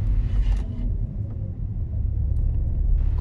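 A Renault Twingo climbing a hairpin mountain road, a steady low engine rumble and road roar heard from inside the car, continuous and close with no talking.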